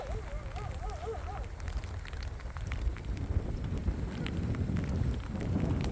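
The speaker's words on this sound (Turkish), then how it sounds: "Yağmur devam ediyor hala." Steady rain patter falls over a broad wash of outdoor noise, with a brief warbling tone near the start and scattered small taps throughout.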